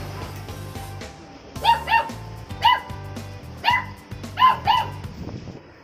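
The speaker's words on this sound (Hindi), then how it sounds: "ऊपर का छत का पानी नीचे जा रहा होगा तो माइलो भौंक रहा है" A pet dog barks several times in short pairs at the sound of roof rainwater draining through a pipe on a windy, rainy day, over a steady low hum and faint background noise, fairly close.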